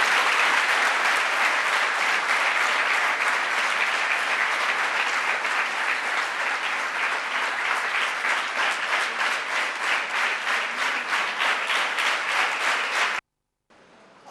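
An audience claps loudly and steadily for a guest speaker being welcomed onto the stage at an academy event, with dense, continuous applause that fills the hall for about thirteen seconds and then stops abruptly.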